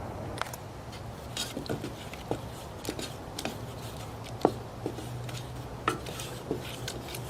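Pancake batter being stirred in a bowl while camping in a U-Haul box truck: soft, irregular clinks and taps of a utensil against the bowl over a low steady hum.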